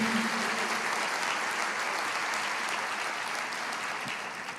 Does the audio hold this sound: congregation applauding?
yes